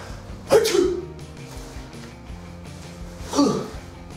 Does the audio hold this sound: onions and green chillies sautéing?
no